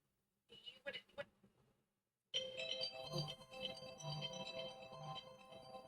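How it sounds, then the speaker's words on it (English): A phone rings with an incoming call. Short electronic tones sound first, then after a pause a longer melodic ringtone plays on, fairly quiet and near, with speech-like sound around it. "I had a phone call coming in"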